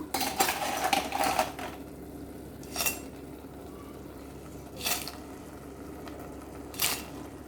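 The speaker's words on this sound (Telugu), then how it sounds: "ఇప్పుడు పీతలు వేసేసుకుందాము" Crabs tipped into a pan of softened onions and oil for an Andhra crab curry, then stirred with a metal utensil: a clattering burst of scraping and knocking followed by three short, separated scrapes against the pan.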